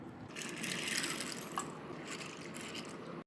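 Chickpeas being washed with water in a bowl give a continuous close sloshing and trickling, with a brief splash in the middle and no talking.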